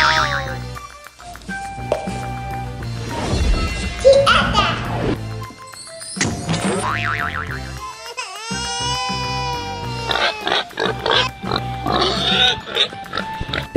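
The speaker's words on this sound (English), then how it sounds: "Pig." Cartoonish pig oinks and squeals, likely from a children's toy or sound effect, come in loud bursts with springy boing-like tones, brief gaps and some crying or wailing sounds over about fourteen seconds.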